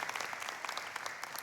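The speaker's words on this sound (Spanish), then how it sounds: "Den un aplauso a los papás que están aquí" A Spanish-speaking church congregation applauds the fathers present, with brisk, dense clapping from many hands that runs without pause, fairly close and without talk.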